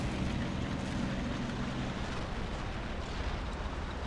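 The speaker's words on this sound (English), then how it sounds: "We got more field howitzers here opening up at the enemy" Field howitzers fire in a modded war game during the battle of Narva, blending into a dense, steady low rumble of distant artillery with no clear separate shots and no talking.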